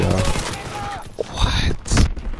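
Pistol shots from Call of Duty: WWII crack in a few short bursts over roughly two seconds, mixed with a voice talking.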